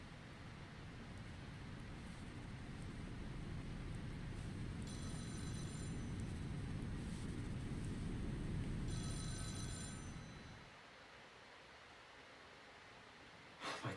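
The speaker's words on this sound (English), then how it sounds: "Phone's ringing?" Telephone ringing in The Doll Shop horror visual novel, two bright bursts of electronic ringing over a low rumbling ambient drone that drops away near the end.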